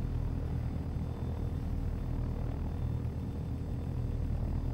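A helicopter's engine throttles up steadily toward liftoff during a training session, a loud, continuous rotor and engine roar with deep low rumble holding level throughout, with no talk.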